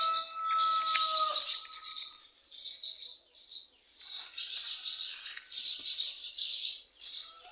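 Swallows chirp and twitter in quick bursts, with high, bright tweets repeating over several seconds and no voices.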